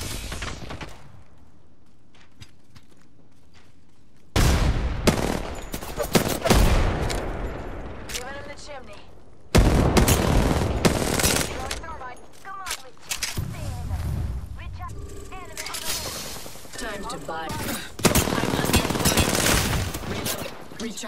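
Rapid automatic gunfire bursts from Apex Legends combat, loud and repeated in dense volleys across the clip, with a voice talking between the shots.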